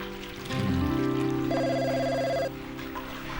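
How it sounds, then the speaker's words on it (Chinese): A telephone rings with a bright electronic bell tone lasting about two seconds, loud and near, after a brief low rumble. "对不起，我接个电话。"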